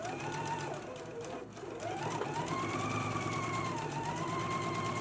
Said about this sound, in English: we can go ahead and stitch around in a 3/8 of an inch seam allowance